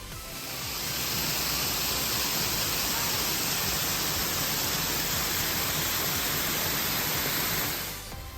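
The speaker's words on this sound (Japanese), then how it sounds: "こちらがアバンガンの滝です。" Abangan waterfall in Ubud, Bali, roaring as a steady, dense wash of falling water that swells in, holds at full strength throughout, then fades at the end, with no voices.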